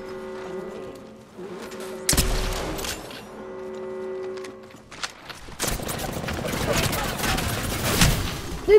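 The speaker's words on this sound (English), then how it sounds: "They're shooting at me." Gunfire in the Apex Legends battle royale game, with a sudden loud volley and then scattered sharp shots and rapid bursts over game music and effects, rising into sustained heavy firing near the end.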